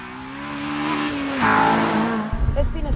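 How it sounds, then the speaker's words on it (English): A Mugen Civic Type R engine revs and roars through twin big exhaust tailpipes with a rising exhaust note, then a sharp burst of throaty noise near the end, loud and close. "Those 2 big exhaust tailpipes are noisy enough to remind you"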